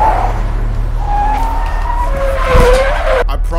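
A car in a driving video game skids with a long tire squeal over a steady engine drone, the squeal sweeping up and down before a sharp bump near the end.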